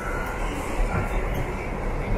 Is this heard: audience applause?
no